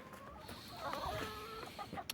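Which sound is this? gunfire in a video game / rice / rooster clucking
rooster clucking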